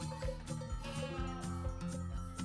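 Several goats bleat close by in the Taurus Mountains of Turkey, their wavering cries overlapping in a steady, insistent chorus.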